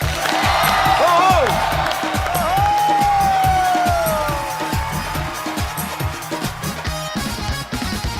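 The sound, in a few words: studio audience applause and cheering welcoming a guest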